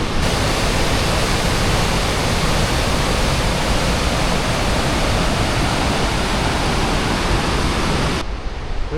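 Rushing river water in Yosemite, a loud, steady broadband roar of fast-flowing current close by that holds unbroken almost to the end and then drops off abruptly.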